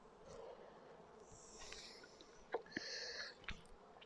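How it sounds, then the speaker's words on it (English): Honey bees crawling over hive frames at an apiary give a faint, thin buzzing that swells and fades, broken by a few soft sniff-like rustles nearby. "Come on, bees, move out of the way."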